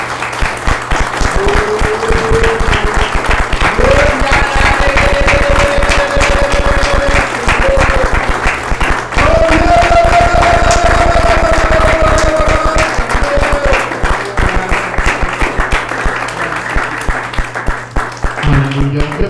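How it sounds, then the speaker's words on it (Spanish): A church audience breaks into loud, sustained applause, a dense roar of clapping that fills the room for the full stretch, with a held musical tone and faint voices underneath before it thins out at the end. "Dale un fuerte aplauso a Cristo Jesús"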